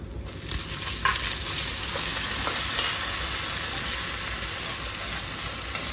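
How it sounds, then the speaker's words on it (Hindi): Sliced tomatoes go into browned onions in a frying pan for chicken karahi, a steady close sizzle with stirring and scraping in the pan. "ऑनियंस हमारे ऑलमोस्ट ब्राउन हो चुके हैं। अब हम इसमें डालेंगे स्लाइस टोमेटोज"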